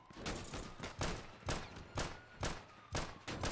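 Gunfire in a roleplay shooting game: a string of about eight loud, sharp shots, evenly spaced roughly every half second, with little else audible between them.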